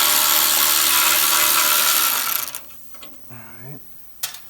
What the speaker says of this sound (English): before I use the electric ratchet part